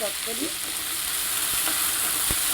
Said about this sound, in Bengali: এটাকে এরকম করে ভাজবো